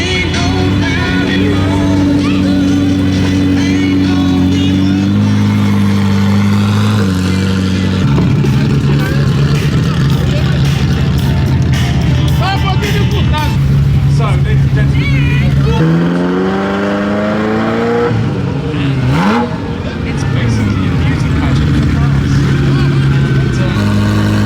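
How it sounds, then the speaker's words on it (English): Many cars start up and rev at a parade at Salon Prive London, engines droning and rising in pitch continuously, close and loud, with people talking over the noise. "There's another parade, loads of cars starting up, so we're chasing an F40 at the minute."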